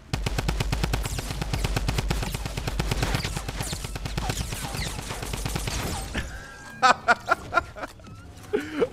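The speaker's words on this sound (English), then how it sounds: "First kill with the Tommy gun coming in hot." Tommy gun firing in the video game Fortnite, a long rapid rattle of automatic shots up close and loud for about six seconds, then a few scattered single cracks with laughter and exclamations in between.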